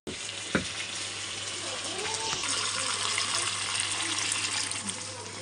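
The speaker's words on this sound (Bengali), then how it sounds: "পোস্তর ধোয়া বাটি জলটা দিয়ে দিলাম" Rinse water from a poppy-seed paste bowl is poured into chicken curry cooking in a pan, a steady close gushing, splashing pour with one sharp knock near the start.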